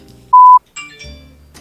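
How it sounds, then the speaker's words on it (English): A single short, clear electronic phone tone beeps loudly, followed by a few faint chiming notes and low background hum. "Silence your phone."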